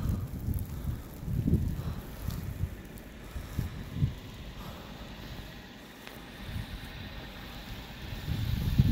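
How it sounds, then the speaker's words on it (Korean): Strong wind gusts over the snowy Hangyeryeong mountain pass, a rough, low buffeting roar with rising and falling surges against the microphone and no talking. "바람이 많이 부는 게 보이시죠?"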